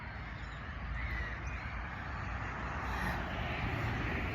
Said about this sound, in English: can you see them birds?